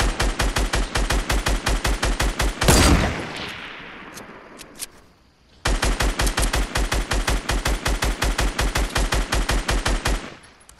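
Rapid automatic gunfire in a Fortnite squad match, loud sustained bursts of fast repeating shots that break for a few seconds of fading noise and then resume just as dense.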